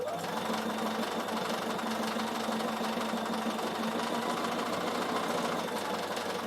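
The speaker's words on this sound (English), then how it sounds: "And now I'm just going to stitch this down." A Bernina sewing machine stitches down wool applique for a draught stopper, running in one steady, continuous mechanical whir with a low motor hum from start to finish, fairly close and alone with no talking.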